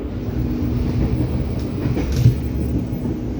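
A Cikuray passenger train rolls past at an Indonesian rail crossing, a steady broad rumble of wheels and carriages holding level throughout, with a faint clatter and no talk.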